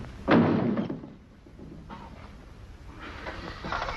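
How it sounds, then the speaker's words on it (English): A door slams shut with a single loud thunk in an old western film, followed by a quieter stretch and faint rustling movement afterward. "don't slam the door as you go out"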